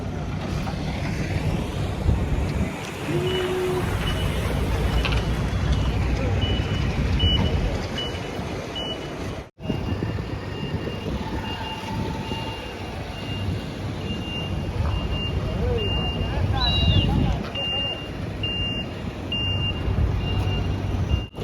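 A truck backs up during unloading at a cruise ship's service area, its reversing alarm sounding in short repeated beeps over a steady rumble of engine and machinery, with voices talking faintly in the background.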